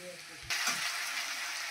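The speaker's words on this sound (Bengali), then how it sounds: "দেখো পেঁয়াজটা ভাজা ভাজা হয়ে গেছে। আর এবার আমি দিয়ে দিচ্ছি রসুন বাটা।" Onions fry in a pan, and garlic paste hits the hot oil midway, so a quieter sizzle jumps to a louder, bright crackling hiss that holds steady to the end.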